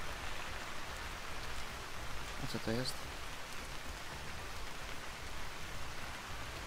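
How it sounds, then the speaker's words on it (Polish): Rain patters steadily on leaves in the survival game Vintage Story, a soft, even wash of dense drops throughout, with a brief spoken question partway through. "Bardzo piękny jest ten dźwięk, jak ten deszcz pada jakby na liście."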